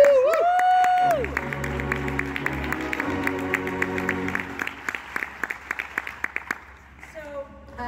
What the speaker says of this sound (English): can we all just have a round of applause for all the filmmakers?